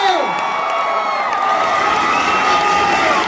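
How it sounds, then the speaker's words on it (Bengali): A large crowd cheers and shouts loudly and continuously, with whoops and scattered clapping mixed in, dense and close throughout. "জোরে হাততালি হবে সবাই মিলে।"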